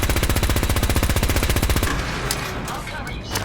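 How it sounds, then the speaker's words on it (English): Rapid automatic gunfire in the Fallout 4 video game, a loud fast burst of evenly spaced shots for about two seconds, then fading into scattered softer reports and rumble. "Who else is shooting?"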